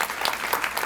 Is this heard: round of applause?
yes